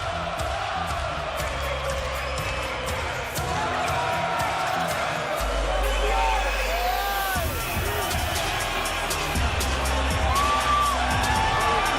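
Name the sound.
crowd cheering for boxer Gennady Golovkin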